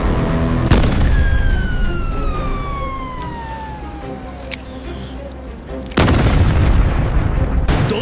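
A weapon fires in an animation: a loud blast hits, then a descending whine trails off, and a second sharp burst strikes near the end over a steady background rumble.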